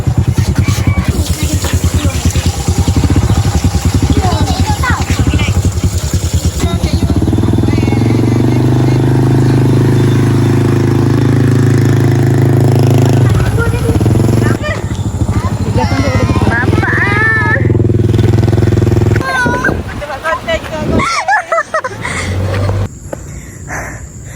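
A motorcycle engine drones steadily nearby, its low hum shifting as it rides along, with voices talking over it at times.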